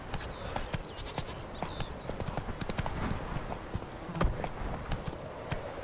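Roach, a horse in The Witcher 3 game, gallops with steady clip-clop hoofbeats throughout, set against a busy background of game ambience and birdlike chirps, with one louder thump near the end.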